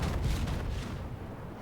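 A Warspite battleship's guns fire in World of Warships, giving a single deep, booming report that rolls off into a fading rumble over under two seconds.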